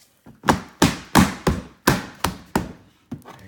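Plastic hood on a Power Wheels Porsche 911 GT3 ride-on toy being pushed into its notches: a series of about eight sharp, close knocks and snaps in an uneven rhythm, loud and alone.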